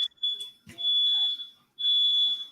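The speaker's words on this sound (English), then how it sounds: "that beeping noise? Is that you or me?" A high, steady electronic alarm beeps in several sustained bursts with brief gaps, loud and close, with no talking.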